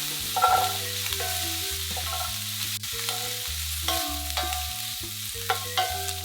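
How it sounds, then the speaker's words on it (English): Meat and vegetables stir-fry for Thai basil stir-fry (pad kra pao) with a continuous sizzle and occasional stirring, under steady background music that plays throughout. "Once the meat is cooked, add vegetables and fry for another minute or two."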